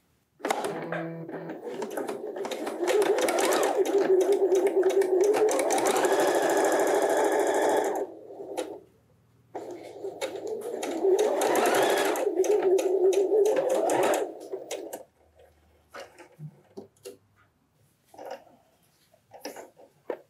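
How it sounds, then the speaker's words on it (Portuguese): Domestic sewing machine stitching patchwork fabric squares in two loud steady bursts of rapid whirring, separated by a brief pause, followed by quieter handling clicks and rustles. "Máquina doméstica, tá? Se não tiver, pode fazer na outra industrial, não tem problema."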